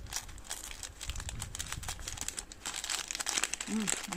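Crinkly plastic wrapping being opened around a clementine monoi scented wax melt, a run of close, dry crackles and rustles over several seconds.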